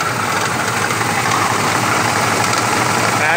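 A Ford Crown Victoria engine idles steadily and loudly up close, with a dense, continuous metallic rattle from the timing chain area near the passenger-side valve cover running throughout.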